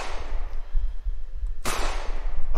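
In an Unreal Engine 4 game, one sudden explosion bursts out after a low, rumbling lull, cracking loudly before trailing off into a fading rumble.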